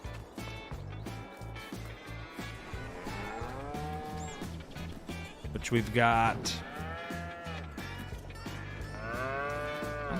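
Brown Swiss cows mooing in the Farming Simulator 22 farming game, repeated long drawn-out lows, several overlapping and fairly close, with someone talking briefly over them.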